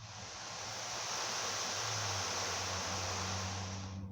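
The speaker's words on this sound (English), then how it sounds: "Did that help you to imagine the beach with the sound of the sea in it?" Sea waves wash onto a tropical island beach in a soft, continuous hiss that swells gently and holds steady, faint and without talk, with a low hum underneath.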